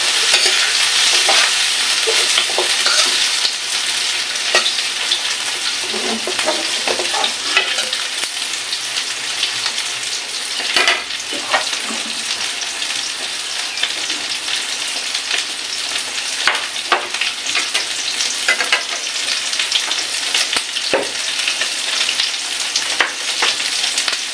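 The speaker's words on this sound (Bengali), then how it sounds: "সুন্দর করে সয়াবিনটাকে ভাজি করে নেব।" Soy chunks fry in a pan as they are stirred, giving a loud, continuous sizzle with repeated scraping and clacking from the utensil all the way through.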